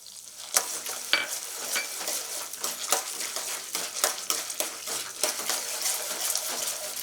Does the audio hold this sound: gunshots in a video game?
no